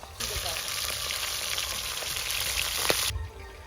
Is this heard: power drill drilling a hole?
no